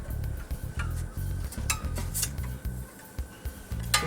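Western-style files cutting the nut slots of a Bacchus guitar during a setup: a run of short, quiet metallic scraping strokes in an irregular rhythm, close by, with no talking.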